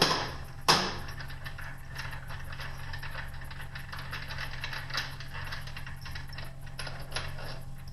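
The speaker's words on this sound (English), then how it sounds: "There's 4 bolts. Should be a 3/4 inch socket to do this." A 3/4 inch socket ratchet loosens four bolts holding a main bearing on an M-23, a sharp click near the start followed by steady close ratcheting over a low mechanical hum.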